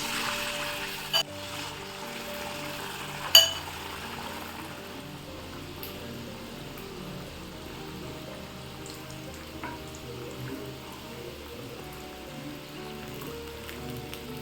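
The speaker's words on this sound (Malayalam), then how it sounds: "ഇനി നമുക്ക് ഓരോന്ന് ഈ ബാറ്ററിയിൽ ഇട്ടിട്ട് ജസ്റ്റ് നമുക്ക് ഓരോന്നായിട്ട് ഇനി എണ്ണയിലേക്ക് ഇട്ട് കൊടുക്കാം" Sukhiyan dumplings coated in batter sizzle in hot oil with a soft, steady crackle like light rain, faint and continuous, with a couple of sharp pops near the start.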